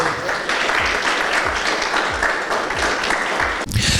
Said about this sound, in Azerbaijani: Təşəkkür edirəm, alqışlayaq.